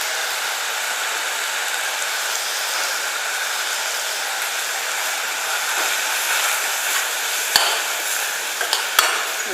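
Sambar powder frying in oil inside a pressure cooker gives an even, continuous hiss of sizzling, heard close, with a couple of sharp metallic clicks near the end.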